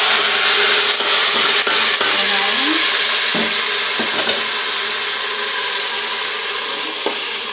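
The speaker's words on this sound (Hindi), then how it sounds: "देखिए, हमने इसमें बहुत अच्छा सा तड़का लगा दिया" Tempering of hot spices sizzles as it is poured into spinach saag, a steady loud crackling fry with a brief stirring clatter, fading slightly toward the end; no one speaks.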